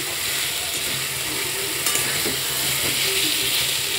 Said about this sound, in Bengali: মশলাগুলো দেওয়ার আগে ফুলকপিটা এদের সঙ্গে আরেকবার কষিয়ে নিলাম, কষিয়ে নিচ্ছি আলুর সাথে।